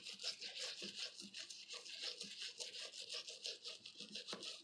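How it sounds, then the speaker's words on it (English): A toothbrush scrubs goop onto the parts of a Singer 201 sewing machine, a close, steady, rapid bristly swishing that repeats without pause and stays fairly quiet, with no voices. "I'm going to take the toothbrush with some goop on it"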